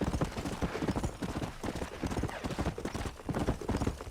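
Horse hooves clip-clopping in the video game Red Dead Redemption, a steady, dense rhythm of hoofbeats at a trot or canter, continuous and fairly close, with faint game ambience behind.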